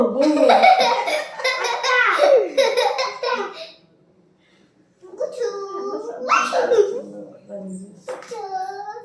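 A puppy whimpers and yelps amid excited children's voices and laughter, close by, with a brief pause in the middle.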